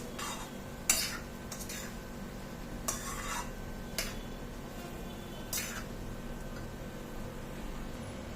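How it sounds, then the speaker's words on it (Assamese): Spoon stirring mixed vegetable sabji in a pan, with several sharp scraping clinks spaced a second or so apart over a low, steady background hum. "মই গোটেইখিনি আকৌ অলপ লৰাই দিছোঁ"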